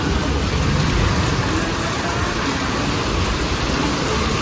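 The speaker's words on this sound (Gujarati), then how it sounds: "ક્યારનો વરસાદ શરૂ છે" Heavy rain pours down steadily, a loud dense hiss of drops with no pauses and no voices.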